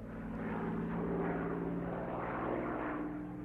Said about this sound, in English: A photo reconnaissance Spitfire took off and headed for the Ruhr.